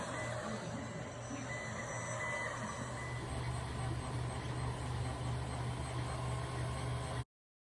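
An Ender-3 3D printer auto-homes, its stepper motors humming and whirring steadily nearby with a tonal buzz until it stops abruptly.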